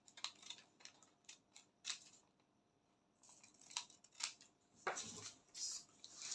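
Scissors snipping through fabric while cutting a back facing for a drop-shoulder kaftan, a series of close, crisp cuts and rustles with brief pauses between them.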